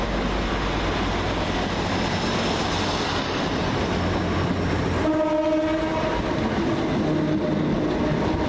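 A Class 345 train runs fast through Reading station with a loud, steady rolling roar. Partway through, a sustained two-tone horn sounds and holds for a few seconds while the wheels keep rumbling.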